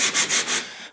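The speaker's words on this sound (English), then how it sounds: "now I'm just getting wrapped up here with the final sanding" Brisk back-and-forth rubbing of 80 grit sandpaper on an outboard motor surface, four quick close strokes in a row before trailing off.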